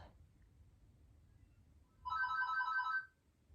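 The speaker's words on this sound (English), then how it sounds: "Apologies for the phone." Phone ringtone ringing in a room during a home workout, a short bright repeating trill of about one second, moderately loud against a quiet background.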